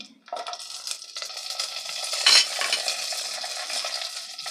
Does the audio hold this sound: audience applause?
no